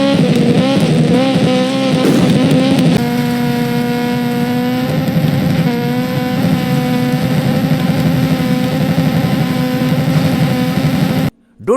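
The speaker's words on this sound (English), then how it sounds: "the sound of engine when it hits the rev limiter" Rally car engine in the racing game EA Sports WRC, loud and sustained, holding high revs with steady harmonic whine and small pitch shifts, bouncing against the rev limiter, then cutting out abruptly near the end.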